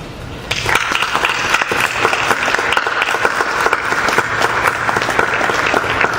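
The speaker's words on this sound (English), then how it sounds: "you should really applaud the efforts of that department as well" Audience applause fills a school board of education meeting room in Elizabeth, New Jersey, a steady dense clapping that starts after a brief pause and holds loud and even for several seconds, with no voices over it.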